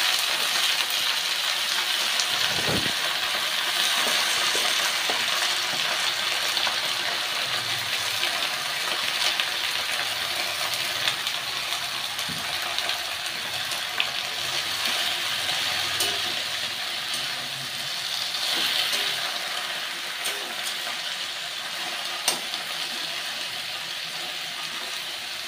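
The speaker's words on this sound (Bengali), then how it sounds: "পাট শাকটা একটু হালকা করে ভেজে নিয়েছি।" Jute leaves frying in mustard oil with dried red chili and onion, a steady broadband sizzle throughout, close and even, with a few faint clicks of utensils.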